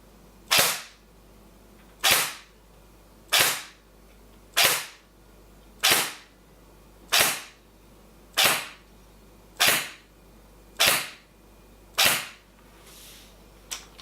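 A Secutor Rapax airsoft DMR fires through a chronograph, ten sharp, loud single shots spaced about one and a half seconds apart in a regular rhythm, with quiet between and no talking.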